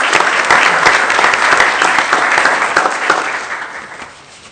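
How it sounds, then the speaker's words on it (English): An audience at a school board meeting applauds a company being honoured, a burst of dense clapping that holds steady and then tapers off toward the end. "So let's applaud Syntax Communications."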